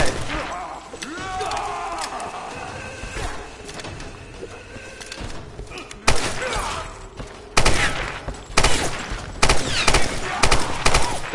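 Gunfire in the Tomb Raider video game, building from scattered shots into sharp, loud bursts of rapid fire in the second half, alongside game sound effects and some voice.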